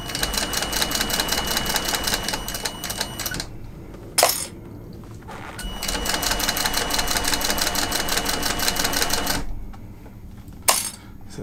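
A sewing machine stitches a leather bag, with back stitches worked in along the seam. Two long, evenly rhythmic runs of rapid needle clatter are close and fairly loud, broken by pauses and a couple of sharp knocks.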